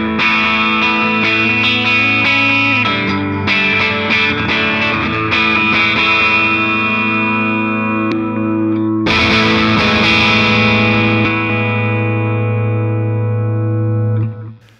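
Electric guitar through a Positive Grid amp head with a touch of delay, sustained distorted chords ringing out, a pause then a big new strum that decays slowly, loud and close with no talking.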